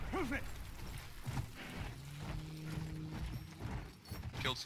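Horse hooves clip-clopping at a gallop in the Battlefield 1 video game, a steady mid-level rhythm under gunfire and game noise, with a faint mechanical rattle and brief voice sounds at the start and end.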